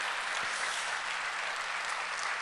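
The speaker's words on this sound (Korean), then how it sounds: "박수로 한번 감사 표현하겠습니다." Members of a church congregation at an autumn revival service clap in thanks after a sermon, a short steady burst of dense, moderately faint applause with no voices.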